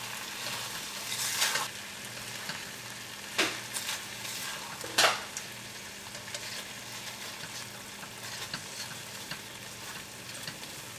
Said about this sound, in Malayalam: എല്ലാം കൂടിയിട്ട് നമുക്കൊന്ന് മിക്സ് ചെയ്യാം.